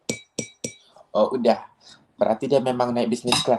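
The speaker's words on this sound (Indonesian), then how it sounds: "coba tolong diketukkan gelasnya" A drinking glass tapped three times in quick succession, bright short clinks at the start, followed by a person talking.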